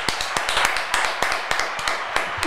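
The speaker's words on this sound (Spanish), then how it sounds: "Un fuerte aplauso para ese consejo del pana Bastian." Light applause on a podcast set, a few people clapping in an uneven, sparse rhythm of distinct sharp claps, close and moderately loud, with faint talk underneath.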